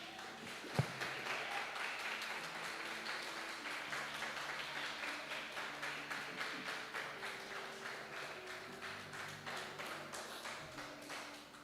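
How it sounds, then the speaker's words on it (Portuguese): A church congregation claps during a sermon in a rhythmic, steady beat that carries on for several seconds at a quiet, distant level, with a faint sustained tone from music or an organ beneath. "Você pode dar uma salva de palmas para o Senhor?"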